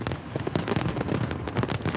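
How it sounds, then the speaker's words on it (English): Fireworks burst in a dense, crackling barrage at a local outdoor event, rapid pops and bangs overlapping continuously at moderate distance. "Fireworks, always a big draw to local events."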